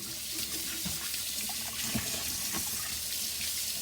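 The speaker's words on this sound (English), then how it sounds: "I'm gonna wash my apple and clean up my ginger" An apple rinsed under a running kitchen tap gives a close, continuous gush of water with small splashes and shifts in the flow as it is turned in the stream.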